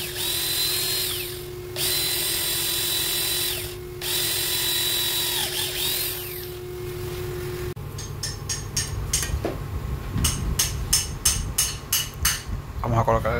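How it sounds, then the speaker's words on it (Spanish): A power drill with a thin bit bores through a broken screw, a steady close whine with short pauses, followed by a rattling stretch of rapid taps and grinding as the bit works through. "Vamos a barrenar hasta que pasemos el tornillo de lado a lado."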